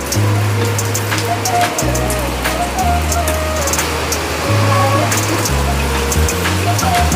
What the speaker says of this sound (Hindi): और वापस से देखो फिर से बारिश तेज हो गई है